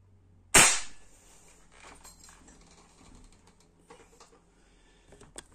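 A single sharp rifle shot fired over a chronograph on a cool afternoon, loud and near, followed by a quiet tail of faint clicks and handling noises.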